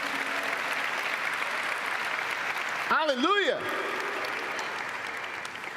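Church congregation applauding in a steady, dense wash of clapping throughout, briefly overlaid by a near voice exclaiming mid-way.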